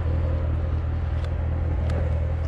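A Corvette engine cold-starts and idles with a steady low rumble and hum, close by, with a couple of faint ticks over the running motor.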